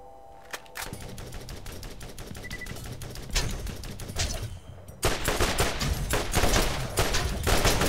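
Rapid automatic gunfire in Borderlands, a steady rattling stream of close, loud shots that grows heavier and denser partway through, with no talking.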